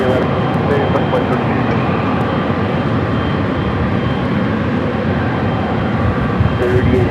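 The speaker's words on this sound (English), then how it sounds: "That was United Flight 38, the Dreamliner coming from Tokyo, Haneda" A United Boeing 787 Dreamliner arriving at LAX from Tokyo Haneda passes with a loud, steady jet roar and rumble that holds evenly throughout, with voices talking faintly alongside.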